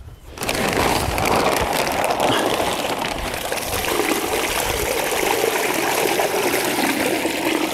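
Water draining from a fire hydrant standpipe out through two B hoses, a sudden rush that starts after a brief quiet moment and then keeps pouring and splashing loudly and steadily, with no talk over it.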